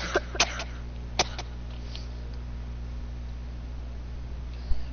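A few short, sharp coughs near the start, separated by pauses, followed by a faint throat-clearing sound over a steady low electrical hum.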